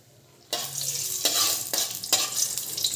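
Dried red chillies hit hot oil with a sudden loud crackling sizzle after a quiet moment, then the frying surges in several stirred bursts, close and bright.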